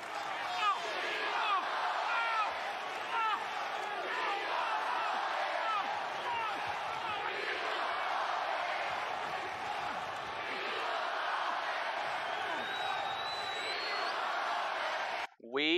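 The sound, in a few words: wrestling crowd at WWE Monday Night Raw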